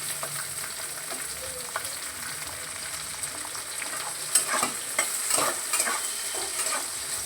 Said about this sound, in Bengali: একটু নেড়ে চেড়ে নিয়ে এবার আমি পেঁয়াজটা দিয়ে দিচ্ছি